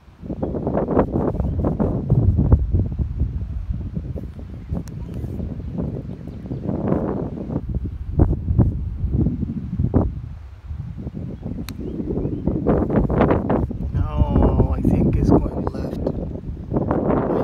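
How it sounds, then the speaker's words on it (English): Strong wind gusts over an open golf course buffet the microphone in loud, uneven surges, with a brief lull in the middle and rustling in the background. "This place is extremely windy."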